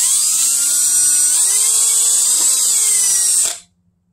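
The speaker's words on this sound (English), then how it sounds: "with our smaller drill bit, and we're going to drill a little vent hole to the side" An electric drill with a small bit bores a vent hole in the side of a plastic bottle, giving a loud, steady high whine that holds for a few seconds and then stops.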